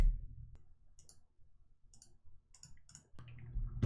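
Sparse, crisp mouse clicks at a computer during online poker, a handful of quiet single taps spaced irregularly over low background hum, with no talking.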